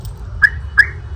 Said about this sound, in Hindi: तो अभी अलार्म बज रहा है।